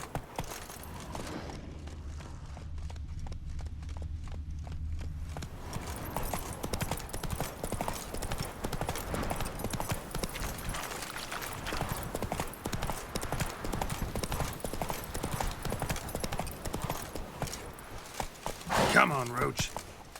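Roach, a horse in The Witcher 3 video game, runs with rapid rhythmic hoofbeats clip-clopping continuously, beginning with a brief steadier stretch, and a short neigh-like burst near the end.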